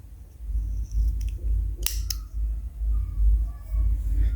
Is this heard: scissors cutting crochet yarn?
yes